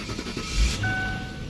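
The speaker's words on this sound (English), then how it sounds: "car fires right up," A car engine cranks and catches with a short low rumble burst, then settles into a steady idle hum with a faint whine, heard close and alone.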